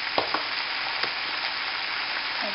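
Chicken breasts sizzle as they brown in a frying pan, a steady close hiss broken by a few sharp crackles and pops, with no talking.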